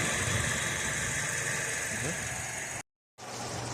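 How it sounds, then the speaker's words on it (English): A car engine idles in a steady, close mechanical hum while its air conditioning is recharged with Freon. The drone cuts out briefly near the end, then returns, and there may be some talk. "And I'm running the engine down there."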